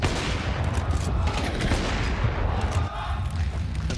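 Dense gunfire from a Counter-Strike match at a StarLadder Budapest Major esports event, steady and loud throughout with overlapping bursts and heavy low rumble, casting-style commentary faintly mixed underneath.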